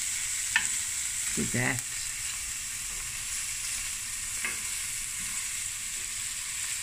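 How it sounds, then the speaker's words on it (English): Chopped onions fry quietly in a pan, a soft, steady sizzle with a couple of brief scrapes from stirring, and a short spoken remark near the start. "now I'm going to add 2 small medium onions just chopped up. And now we're going to fry this until it's nice and translucent"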